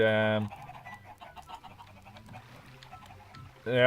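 Chickens cluck in Minecraft in a burst of short, bird-like calls between two loud, harmonic tones at the start and end, with a voice talking faintly underneath.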